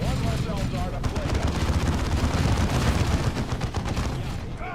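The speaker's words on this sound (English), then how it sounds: "Eldar have opened fire." Eldar gunfire in a Dawn of War II battle, a loud, busy barrage of rapid shots and booms layered with other combat sounds and some voice, sustained for several seconds.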